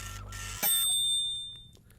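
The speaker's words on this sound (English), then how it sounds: "The graph arm scratched, the bell tinged," A bell ding from an old recording device with a scratching graph arm, heard as a bright sharp chime that rings and slowly decays, faint and quiet.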